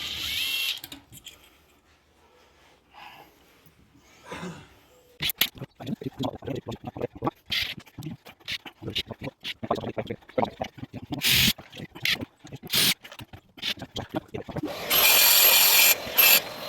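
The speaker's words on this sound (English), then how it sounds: "So we're going to screw this one, screw this to the bottom now." Screws are driven into a board fixed to the bottom of a media wall, bursts of a power driver whirring alongside knocks, rubbing and handling noises, with quiet stretches and some talk between.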